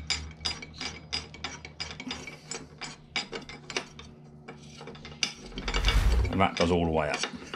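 Nut being threaded and tightened onto a handlebar bolt of a Hayter Harrier 48 lawnmower, a close, steady series of rapid ratchet clicks, followed by a louder scraping metal rasp near the end.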